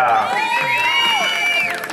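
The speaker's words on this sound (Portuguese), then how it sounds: "Uma salva de palmas" A party crowd at a birthday celebration cheers and whoops in a loud, brief burst of high shouts and whistle-like cries, with scattered applause underneath.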